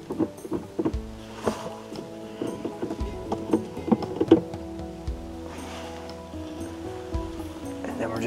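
Antifreeze glugs and splashes as it is dumped out of a canister while winterizing a 2022 Winnebago Travato 59G camper van, a continuous watery pour with a voice talking over it.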